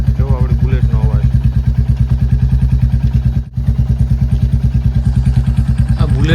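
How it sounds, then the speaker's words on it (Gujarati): A Bullet motorcycle in Sasan Gir idles close by with a loud, steady, thumping beat that dips briefly midway, and a voice speaks faintly over the engine. "જો આપણી બુલેટનો અવાજ."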